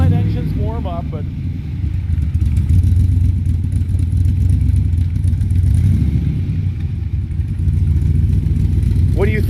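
A 1963 Corvette engine idles and burbles through side pipes, a loud, close, steady rumble with a slight rise under a little throttle, while people talk briefly over it.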